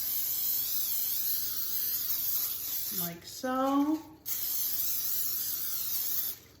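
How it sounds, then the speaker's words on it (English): Pam cooking spray hisses into a casserole dish in a steady, close spray lasting several seconds, broken briefly by a few spoken words. "I'm gonna spray it with a little bit of Pam."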